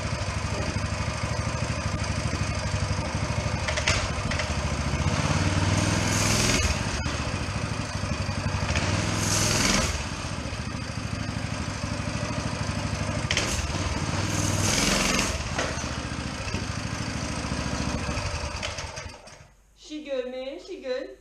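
A Coleman CT200U minibike engine runs steadily after a carburetor replacement, a buzzing small-engine drone that rises in a few revs, then cuts out near the end as a voice speaks.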